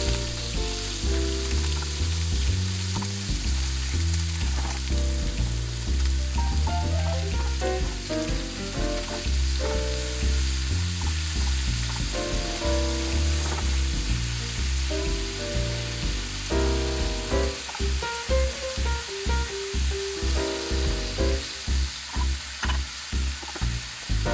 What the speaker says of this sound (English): place the pork into one of your pans and sear it